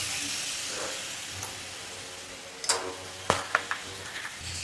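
Tamarind water boils in a pot for Kerala puli inji, an Onam sadhya dish. A steady soft hiss of simmering runs throughout, broken by a few sharp crackles and pops in the second half.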